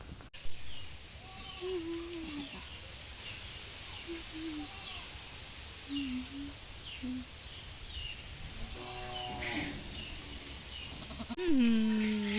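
Goats bleat in short, scattered calls across a quiet goat farm yard in Lalmonirhat, with a louder nearby bleat at the end and faint bird chirps in the background.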